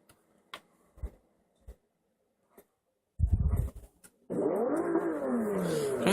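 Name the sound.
Lexus car engine at a car meet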